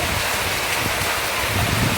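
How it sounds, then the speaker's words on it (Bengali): Steady rain falls over an outdoor spot where clothes hang, making a constant broadband wash with a few low rumbles and gusts, close and fairly loud. "এখন বৃষ্টি হচ্ছে"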